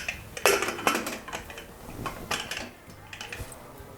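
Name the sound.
tightening the pressure cooker lid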